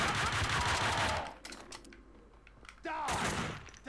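Rapid bursts of gunfire from the Max Payne video game, The Fall of Max Payne, crackle loudly at the start and return near the end, with a sharp voice briefly cutting in between.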